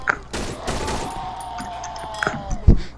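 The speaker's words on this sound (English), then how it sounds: "Why'd you shoot your gun?" Gunfire in the horror video game Cry of Fear comes as a few sharp, close shots over a lingering ringing tone, followed by a heavy thud near the end.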